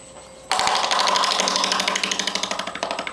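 A woodturning lathe spins up abruptly and runs as a tool makes delicate cuts on a tangle of dogwood roots, giving a loud whirring drone with rapid, regular chattering pulses that become more separated near the end.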